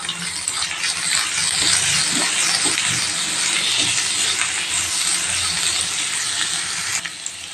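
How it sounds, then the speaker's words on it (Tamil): Chopped onion, ginger and garlic sauté in hot oil in a pan, giving a steady, close hissing sizzle with faint clinks of stirring, easing off near the end. "வெங்காயம் அதோட இஞ்சி பூண்டு எழுத சேர்த்துட்டு நல்லா வதக்கிடலாம்"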